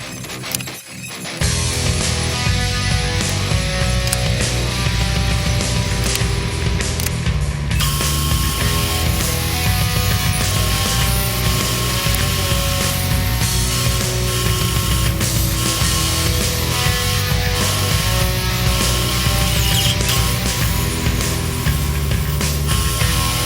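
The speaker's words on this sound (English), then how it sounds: "I'm going to run this guy through the bandsaw." A bandsaw cuts a prototype supercharger bracket for a 283 small-block Chevy build, producing a loud, steady mechanical whine and grinding rasp that run continuously and close up for over twenty seconds.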